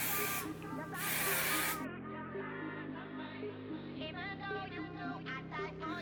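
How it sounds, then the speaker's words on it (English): A hairspray can hisses in two bursts over curled short hair, a loud airy spray that stops near the two-second mark, after which someone talks. "Now let go of the bigger clip, move up, spray all over."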